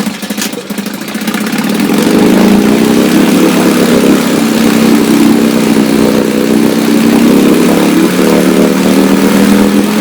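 A 1962 Johnson 3 HP outboard motor picking up to high speed, settling into a loud, steady, buzzing drone that runs close and unbroken through the rest of the clip.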